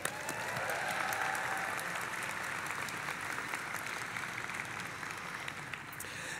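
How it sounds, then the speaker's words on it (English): At a Fordham Gabelli School of Business graduate diploma ceremony, a large audience applauds the graduates with steady, even clapping throughout, heard from some distance. "Can I please get a round of applause for all of our graduates?"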